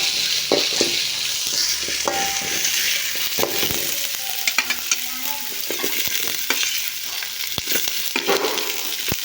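Chopped onions sizzle and fry in a pan for a poori masala, with steady hissing and repeated stirring scrapes throughout, close and fairly loud, no one speaking.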